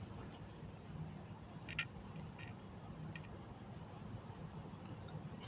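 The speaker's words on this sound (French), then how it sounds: "Est-ce que je vous laisse les cigales?" Cicadas buzz steadily through a summer outdoor setting, a continuous high shrill drone that stays even and moderately loud from start to end, with no one talking.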